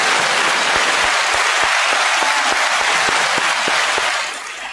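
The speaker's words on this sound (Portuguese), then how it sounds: "eu peço uma salva de palmas" Loud audience applause greeting a performer named Reply at a live event, a thick, sustained roar of many hands clapping close and strong, with a regular low thumping beat underneath, easing slightly near the end.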